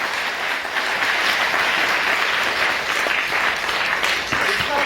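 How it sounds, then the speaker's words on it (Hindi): An audience at a business seminar breaks into loud, sustained applause, the steady clapping filling the room evenly from start to finish. "तो जोरदार तालियां होनी चाहिए।"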